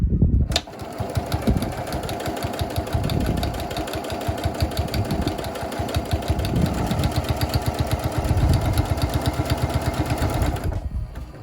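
A sewing machine stitches a seam in fabric, a fast steady mechanical chatter running for about ten seconds after a brief start, close and moderately loud with no talk.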